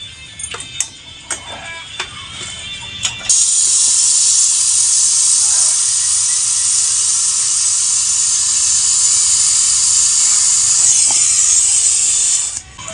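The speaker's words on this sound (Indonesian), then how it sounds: "Kemudian kita las." A welding torch brazing a refrigerator pipe, opening with a few clicks and taps, then a loud, steady roaring hiss that holds for about nine seconds before cutting off, close and alone.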